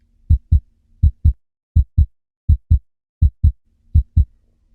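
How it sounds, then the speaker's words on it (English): A human heartbeat thumps in paired lub-dub beats at a steady resting pace, loud, deep and close, with silence between the beats. "Human heartbeat."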